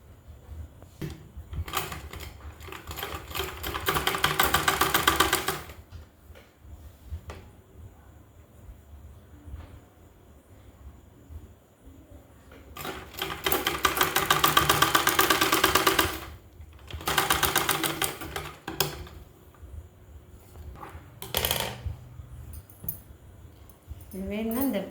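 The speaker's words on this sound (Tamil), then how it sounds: "இது வந்து கொக்கி வைக்கிற பக்கம் தைக்கிறாங்க" Sewing machine stitching a blouse, with rapid mechanical rattling in several bursts of a few seconds each, separated by quieter pauses. Someone talks in between the runs.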